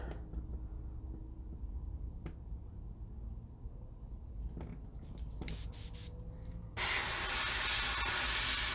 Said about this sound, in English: I should not be spraying with the needle fully forward.